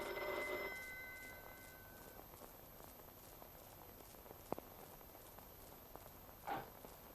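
A telephone rings in a Hindi film scene, one short bright ring at the very start that fades out, followed by a quiet room with a couple of faint knocks.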